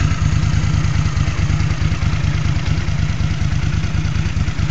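A Honda GL650 motorcycle engine idles steadily, a loud, close, even low-pitched pulsing throb with a light mechanical clatter above it and no talk.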